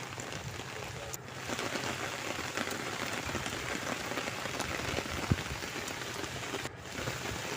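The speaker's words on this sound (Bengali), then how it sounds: "দেখুন বৃষ্টি কেমন হচ্ছে, পুরো সাদা হয়ে বৃষ্টি এসছে।" Heavy rain pours steadily in a dense, continuous roar over a rural village, close and loud, with no voices over it.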